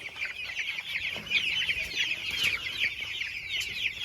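Several chickens cluck and murmur continuously nearby, a busy overlapping chatter from a flock with no talking.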